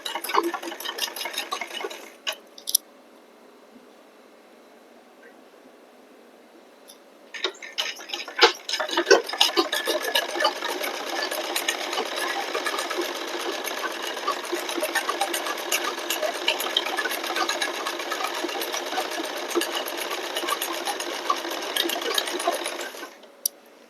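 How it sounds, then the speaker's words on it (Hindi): Sewing machine stitching the belt of a blouse piece, a fast rapid clatter that runs briefly, pauses for several seconds, then whirs steadily and continuously for a long stretch before stopping. "जो हमारी बेल्ट है, बेल्ट को और ब्लाउज पीस को जोड़ने के लिए जो सिलाई लगाई थी हमने, उसके पास एकदम ब्लाउज की बेल्ट पर सिलाई लगाएंगे"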